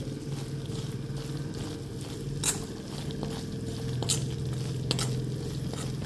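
Masala frying in oil inside an iron kadhai, a continuous close sizzle and bubbling with occasional sharp scraping clicks of a spatula against the metal.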